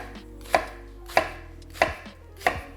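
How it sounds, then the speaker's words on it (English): Knife chopping through an onion on a cutting board, four evenly spaced sharp cuts about two-thirds of a second apart, close and crisp with quiet gaps between strokes and no talking. "we're going to start by chopping the onion almost all the way through, but not quite"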